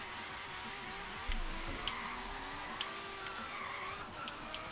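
Tires squeal as a car skids and spins out during a Forza Horizon 3 race, a sustained rubbery screech with a few sharp bumps over a steady engine drone, fairly quiet and alone.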